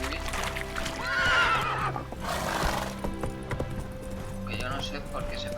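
Horse in The Witcher 3 video game gives a loud, quavering whinny, with a softer second snort and clip-clop hoofbeats following, while someone speaks over the game sound.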